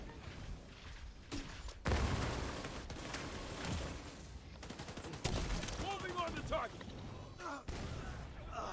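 Rapid automatic gunfire from a minigun in a co-op shooter game, a dense continuous clatter with bursts and pauses, loud and close, mixed with other game sounds and occasional voices.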